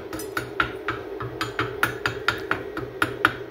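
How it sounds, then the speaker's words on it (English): A body hammer knocks slag off a stick weld made with a 205 amp digital inverter welder, giving a steady series of about a dozen sharp metallic taps, close and fairly loud, with no talking. "take that, that body hammer there and knock the slag off of there real quick"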